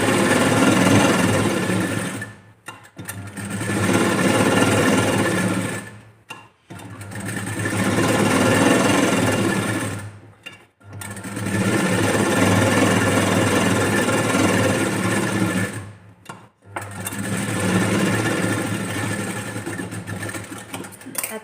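Sewing machine running in long sustained bursts with short pauses between them while a quarter-inch seam joins a blouse lining to the main fabric, a steady close mechanical whir with no talk.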